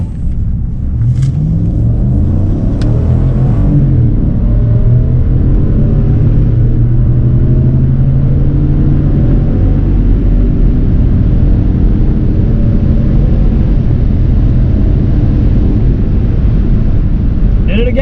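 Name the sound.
Cadillac Escalade launching down a drag strip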